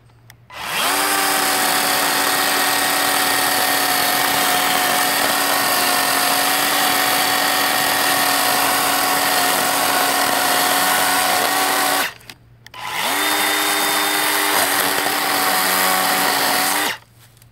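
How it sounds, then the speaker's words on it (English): A Makita 18V X2 (36V) 12-inch cordless chainsaw rips through a thick piece of wood, a loud, steady high whine for about eleven seconds, a brief pause, then a second shorter cut. "we're gonna cut a pretty thick piece of wood"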